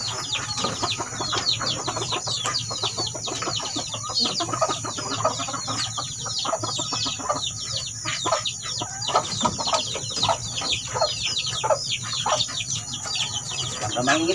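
A young labuyo-breed hen and other chickens cluck and chatter steadily at close range in a chicken pen, with overlapping repeated calls and soft background noise and no clear talk.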